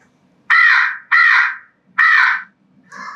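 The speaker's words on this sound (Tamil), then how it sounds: "காக்கா." A crow caws four times in quick succession, three loud harsh calls followed by a shorter, softer one, heard alone and close against a quiet background.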